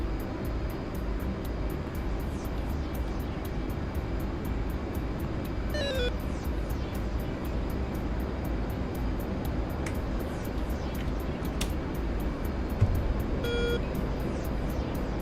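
A jet aircraft taking off in a combat flight simulator over the Kola peninsula, a continuous loud engine roar with a few short electronic cockpit beeps.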